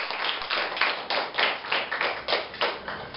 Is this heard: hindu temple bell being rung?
no